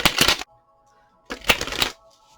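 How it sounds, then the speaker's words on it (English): A brand-new deck of tarot cards being shuffled in two quick riffling bursts, close and crisp, separated by a short pause with a faint background tone. "I want to get a good shuffle in here since these cards are brand new."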